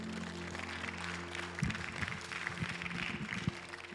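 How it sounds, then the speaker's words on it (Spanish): Church congregation applauding during a Spanish-language service: a continuous, moderately loud wash of clapping throughout, with a low hum and a few louder thumps underneath. "Dele un fuerte aplauso al Señor"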